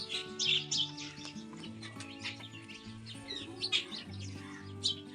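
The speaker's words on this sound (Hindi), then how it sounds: "पक्षियों की चहचहाट" Many small birds chirp and tweet together during an early-morning grain feeding outdoors, a busy overlapping chorus of bright calls over a steady low hum.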